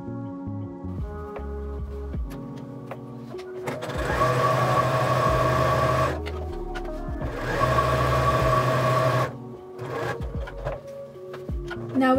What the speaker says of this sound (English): we're going to sew around all four edges, and we'll use a 1/4 inch seam allowance